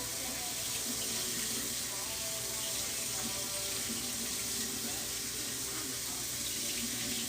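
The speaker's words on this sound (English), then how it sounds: "We are rinsing out our tie-dye shirts" Steady running tap water splashes continuously as tie-dye shirts are rinsed in a sink, a close, even rush with no pauses.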